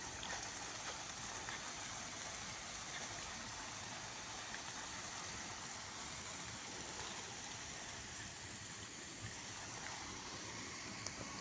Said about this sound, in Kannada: ನೋಡಿ ಆಲ್ರೆಡಿ ನೀರು ರನ್ನಿಂಗ್ ಇದೆ.